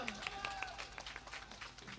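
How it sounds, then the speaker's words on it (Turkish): An audience at a live outdoor festival performance applauds, a dense wash of clapping under a voice announcing over the sound system, with faint music tones mixed in. "Alkışlar."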